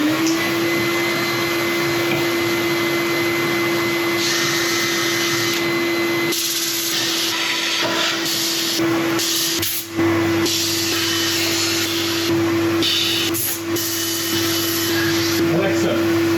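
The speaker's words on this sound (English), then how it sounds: "Alexa, turn on vacuum." Shop vacuum in a woodturning workshop running continuously with a loud, steady high-pitched whine and airy hiss, with brief surges and dips as sanding dust is drawn in, and a voice speaking over it.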